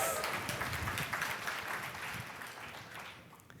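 Audience applause at an LGBT MBA keynote speech, a dense wash of many hands clapping that stays steady and loud before slowly thinning out, with no talk over it.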